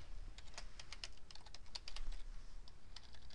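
Typing on a computer keyboard, a quick irregular run of light key clicks heard close up with no talking, fairly quiet throughout.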